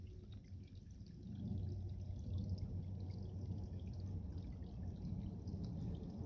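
A small stream trickles steadily along the Appalachian Trail in Shenandoah, a soft continuous burble with faint drips, heard from close by under a low, broad rumble.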